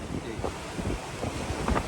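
Steady, heavy storm wind roars and buffets the microphone on the Sri Lankan coast, with faint surf rumbling underneath and a few brief voice fragments.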